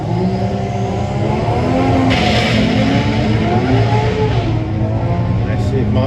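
A drag racing car at a Santa Pod doorslammer event holds a loud, steady engine roar through its run, with a continuous dense drone and a slight surge midway.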